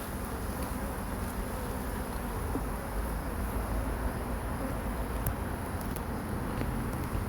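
Honeybees at a newly set-up hive hum in a dense, steady swarm drone, some fanning at the entrance, close and continuous at low level with no talk.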